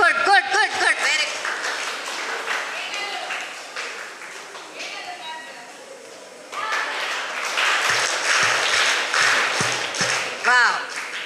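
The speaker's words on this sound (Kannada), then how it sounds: "ಕೈ ಚಪ್ಪಾಳೆ" Children clap their hands together at a summer activity event, the clapping mixed with loud adult speech and singing, and a stronger burst of applause arrives in the later half.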